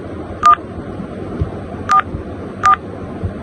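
Three short, loud touch-tone beeps sound on an IP phone while dialing a call, evenly spaced over quiet line hiss.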